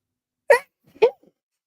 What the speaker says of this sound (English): Ooh, I got to sneeze, guys.